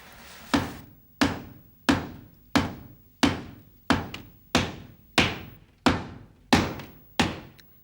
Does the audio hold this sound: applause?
no